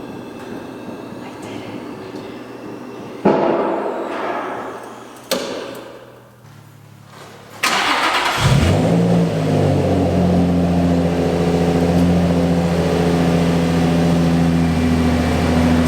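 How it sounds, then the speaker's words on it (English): A Nissan 350Z engine starts after some mechanical clatter, catching abruptly and then settling into a steady, loud, close-up idle with a strong low hum that holds for several seconds. "I just wanna start the car so that we can get the oil flowing in the engine"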